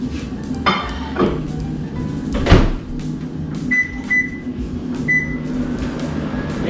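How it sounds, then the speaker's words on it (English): A microwave hums steadily while its door clunks and dishes clink, with a few short electronic beeps near the end. "Now that goes in the microwave to soften up cream cheese."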